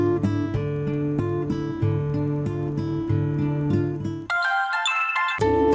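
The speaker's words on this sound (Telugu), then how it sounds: "రింగ్ అవుతుంది." A phone ringtone plays a repeating electronic melody loudly and steadily, then switches to a higher, brighter tone near the end, with no voices.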